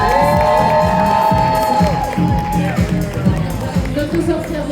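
At a convention cosplay roleplay contest, a crowd cheers and shouts for a green-skinned witch cosplayer, loud excited voices and some clapping mixed with a sustained tone and an announcer's talk.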